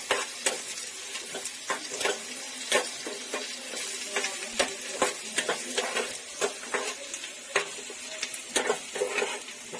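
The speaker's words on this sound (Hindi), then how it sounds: "हम इसी तरीके से तलेंगे अच्छे तक, ब्राउन होने तक।" Egg bhurji fries in a pan until browned, a steady low sizzle broken by frequent sharp scrapes and clicks of stirring against the pan, close and fairly quiet, with no talking.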